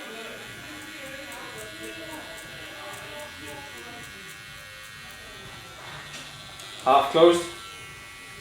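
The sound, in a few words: hair clipper buzzing while cutting a fade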